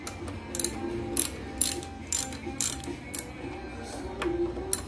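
Clicks of a half-inch ratchet working a bolt on a 1985 Harley FLHT motorcycle, a run of sharp, close pawl clicks in short irregular bursts with brief pauses.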